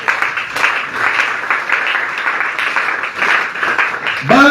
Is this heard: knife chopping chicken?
no